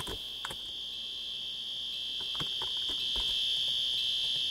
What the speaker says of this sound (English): Now if you noticed with the fire alarm, because it's got a long sound like that,